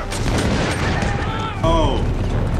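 A massed musket volley from a Revolutionary War battle scene in the 2000 film The Patriot, a loud sustained rumble of gunfire with a voice crying out over it.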